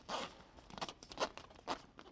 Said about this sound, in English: And I'm going to zipper it back up.